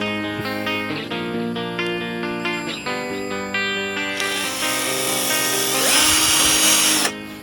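A power drill whines steadily, its pitch rising and falling, then grinds louder and rougher as it bores into a rubber tree trunk before stopping.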